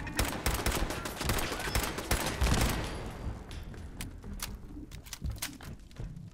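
Turrets open fire inside a car assembly plant in Fallout 4, rapid bursts of gunfire crackling near and loud at first, then thinning into scattered sharper shots.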